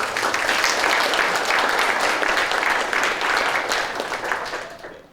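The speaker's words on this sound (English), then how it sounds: "give the mayor another round of applause" Sustained audience applause after a call to honor the mayor at a Hamilton dinner event, a dense steady wash of many hands clapping for about five seconds before tapering off at the end.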